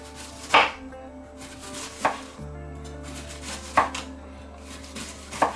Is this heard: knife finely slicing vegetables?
yes